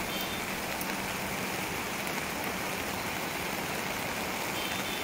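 Heavy rain pours down in the hilly Kannur region during a monsoon downpour, making a steady, dense hiss of water hitting surfaces that stays loud and constant throughout, with no voices over it.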